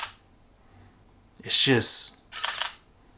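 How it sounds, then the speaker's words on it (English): Sony a9 camera firing its mechanical shutter in single-shot mode, two crisp clicks about a second apart, close and fairly loud, with a brief spoken word just before. "Here's what the shutter sounds like."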